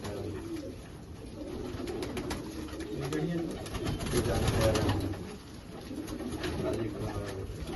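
Pigeons in a loft coo softly and repeatedly at low volume, their throaty calls rising and falling through the stretch with faint background voices.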